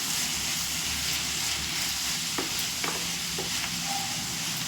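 Vegetables for a pasta dish sizzle steadily in a pan on a cooking stove while a spoon stirs them, giving a few distinct scraping clinks over a constant hiss of frying, with no talking.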